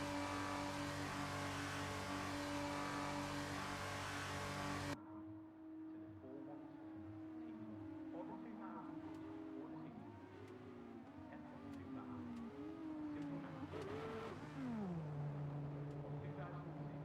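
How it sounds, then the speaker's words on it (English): Formula 2 race cars rev on the grid in an F1 video game: a loud broadband roar gives way to layered, shifting engine tones from several cars rising and falling together. "We are almost ready to start the Formula 2 race as the cars take their positions on the grid"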